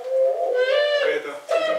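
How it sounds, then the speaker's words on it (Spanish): A picazuro pigeon gives a few low, drawn-out coos in close succession, clear and fairly loud with short gaps between phrases. "La picazur, paloma picazur."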